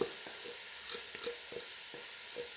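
Onion frying in oil with turmeric and coriander powder, a quiet, even sizzle with soft stirring taps every half second or so, close by and without talk.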